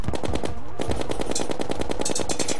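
Rapid automatic gunfire from the video game Terraria, a dense, loud, evenly spaced stream of shots rattling without pause throughout.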